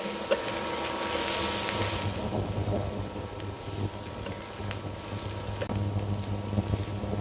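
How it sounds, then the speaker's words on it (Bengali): Beans and potatoes fry and are stirred in an uncovered pan, giving a steady close sizzle with occasional scraping knocks, with no one talking over it. "এখন ঢাকনা খুলে আমি এটাকে আরো কিছুক্ষণ ধরে নেড়ে চেড়ে ভেজে নেবো"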